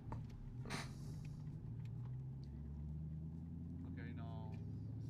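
A manual transmission car pulls away with a little gas, its low engine drone steady and close, rising slightly in pitch. A voice speaks briefly over it.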